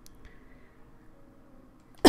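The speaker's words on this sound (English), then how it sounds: "I didn't want to cough" A single sharp cough bursts out at the very end after near silence, close and loud.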